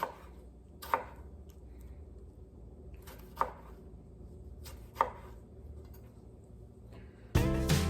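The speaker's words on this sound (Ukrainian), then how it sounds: "Ось такими кусочками нарізаємо нашу помідорку." A knife chops a tomato into large pieces for a Caesar salad. Three sharp, close chops land a couple of seconds apart, followed by a louder clattering burst at the end, with no talk.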